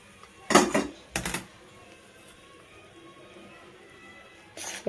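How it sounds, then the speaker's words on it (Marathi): A spoon clinks and scrapes against a bowl in two short bursts and once more at the end, stirring hot oil into flour for crispy salted shankarpali, with quiet room tone between. "चमच्याने अगोदर सगळीकडे हलवून घेऊ कारण हाताला ते चटके भाजणार गरम तेल आहे"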